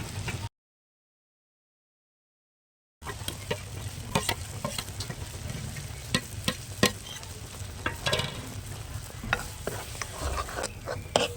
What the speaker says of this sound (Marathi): आता याला तेल सुटेपर्यंत परतून घ्यायचं आहे